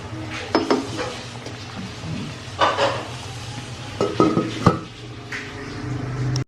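Sweet potato (kamote) being stirred in a pan on a home stove, with clinks of a utensil against the pan and soft sizzling in short bursts, fairly close and without talk.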